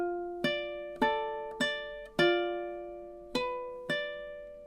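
Measure three of the Luigi's Mansion main theme picked on a ukulele: six clear, bright plucked notes at a moderate, slightly uneven pace, each decaying before the next, close and alone without talk.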